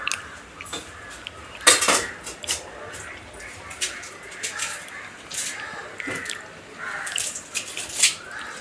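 A knife chops onion, tomato, green chilli, garlic and ginger with irregular sharp taps and knocks, mixed with light kitchen clatter. Some moments are louder than others.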